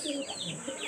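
Soft cooing and faint chirps from pigeons, quiet and slightly distant, overlapping in a low murmur.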